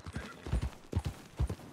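Horse hooves clip-clopping in the video game Red Dead Redemption II, a quiet, steady walking rhythm of soft paired thuds, with no talk over it.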